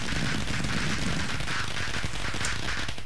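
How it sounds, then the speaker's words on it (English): Rainbow fireworks set off by a redstone contraption in Minecraft burst in a loud, dense continuous crackle and boom that holds at full level throughout, with no talking. "And then it fires up rainbow fireworks,"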